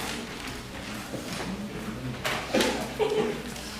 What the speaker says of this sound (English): A classroom with 100 children usually sounds like this.